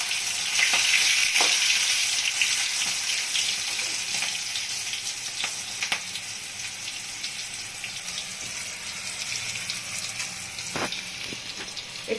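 Chopped tomato and chillies fry in hot oil with a strong, steady sizzle that eases slightly after the first seconds, broken by occasional small pops and clinks.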